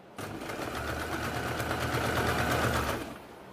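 Sewing machine stitching fabric, a rapid steady mechanical whir with fast regular needle ticks that runs for about three seconds, moderately loud and close, then stops.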